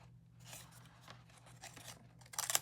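Scissors cut around the edge of a sheet of paper in quiet, scattered snips, ending in a louder, crisp burst of cutting at close range, with no voices.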